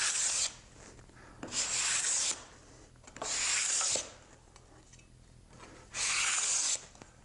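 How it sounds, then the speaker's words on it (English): Pallet wood slat faces scraped with a hand scraper in four separate strokes, each a bright rasping rub of about a second, set apart by quiet pauses; close and fairly loud, no talk. "So it needs a little bit of scraping"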